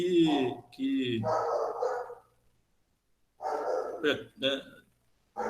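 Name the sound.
neighbour's dog barking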